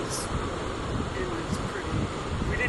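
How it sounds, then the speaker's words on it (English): Strong wind on a rocky South Island coast with heavy surf, a continuous broadband rush buffeting the microphone at steady loudness, no clear voices. "We didn't have good weather that day. It was windy."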